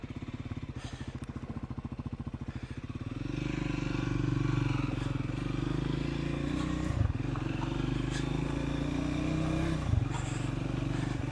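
Triumph Scrambler 400X motorcycle riding a light off-road byway: a steady close engine drone settles in after a few seconds of lumpy idle-like pulsing, with occasional knocks and rattles from the rough track.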